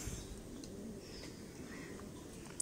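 A pigeon coos softly, with low, faint, steady murmuring close by and a brief chirp near the end, with no talking.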